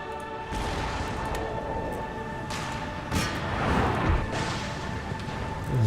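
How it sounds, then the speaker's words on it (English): Artillery cannon fire booms across an Empire: Total War battlefield with marching infantry, several distant thuds and crashes rising over a steady bed of battle noise and tones. "Love those artillery sounds."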